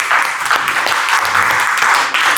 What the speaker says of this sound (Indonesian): Tepuk tangan buat Mbak Azra